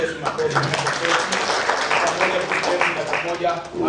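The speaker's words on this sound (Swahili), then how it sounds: "Yesu makofi." A church congregation claps for Jesus in a steady patter of many hands, running under a loud voice throughout.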